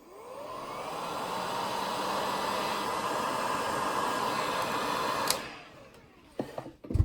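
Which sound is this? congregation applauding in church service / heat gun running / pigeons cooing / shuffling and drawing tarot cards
heat gun running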